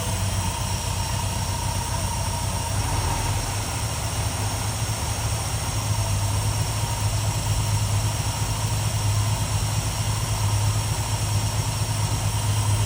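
A car engine idles steadily right after its distributor timing is adjusted, a constant close mechanical drone with a deep low hum that holds even and continuous throughout, with no voices.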